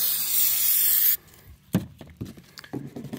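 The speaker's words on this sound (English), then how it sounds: "Spray it one more time." A single long hissing burst of adhesive remover from a spray bottle onto sticker residue on a converted school bus, followed by quieter scraping and rubbing noises.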